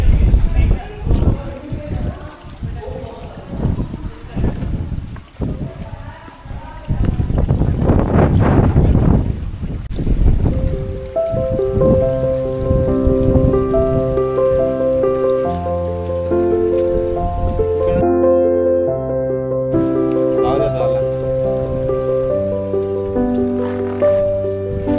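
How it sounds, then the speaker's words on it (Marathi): Strong wind on the Naneghat trek buffets the microphone in rough, rumbling gusts through the first half, then continues faintly under music with tonal notes. "पाहू शकता किती जोरात अशी भन्नाट असं वारा सुटलेलं आहे."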